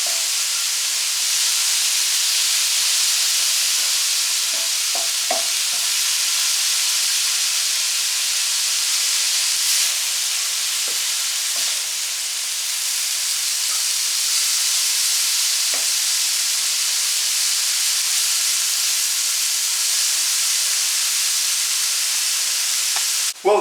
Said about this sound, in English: now we'll start stirring it until the meat is all nice and brown